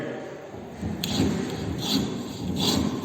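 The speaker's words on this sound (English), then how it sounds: "Now we are planing with the help of metal jack." A metal jack plane shaves a wooden workpiece for a mortise and tenon joint in a carpentry shop, making repeated close rasping strokes over a steady workshop background.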